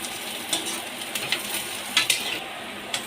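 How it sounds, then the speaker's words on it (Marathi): Onion and dry grated coconut frying and roasting together in a pan for egg curry, a soft steady sizzle with occasional stirring scrapes and small crackles, close and fairly quiet. "याच्यात आत्ताच आपण हे सुकं खोबरं टाकून देऊया, म्हणजे ते पण जरा व्यवस्थित भाजलं जाईल ना"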